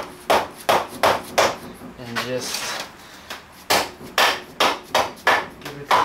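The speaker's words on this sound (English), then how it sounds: "So we're gonna get a soft hammer." Soft hammer striking a 42RH / A500 transmission during teardown, about a dozen sharp, evenly spaced blows in a steady rhythm, close and loud, with a brief spoken word between them.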